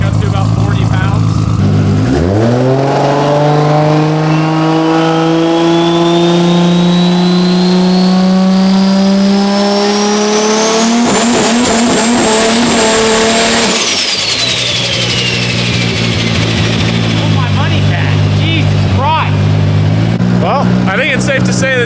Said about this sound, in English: I'm gonna try and get him to do a little nitrous trans brake up to about 40 pounds.